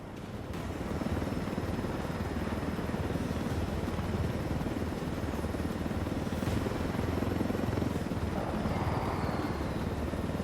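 A helicopter flies in the video game Ghost Recon, its dense, loud rotor and engine drone holding steady throughout with no speech.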